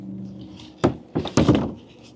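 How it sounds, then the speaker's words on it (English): Barn doors at an outdoor animal enclosure are pulled shut on a cool evening: a few close wooden thunks and a rolling clatter over a low background hum, with no talking. "I'm going to close up these barn doors."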